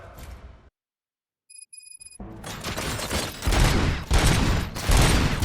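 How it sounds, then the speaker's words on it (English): Rapid sustained gunfire from robots in RoboCop: Rogue City, loud dense bursts building after a brief silence with a few electronic beeps, continuing heavily to the end. "Gunshots? What's going on?"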